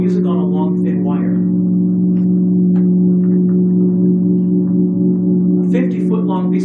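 A long thin wire, around 50 feet, strung in a shopping mall, vibrating: a steady, sustained drone of layered tones, with occasional brief voice fragments over it.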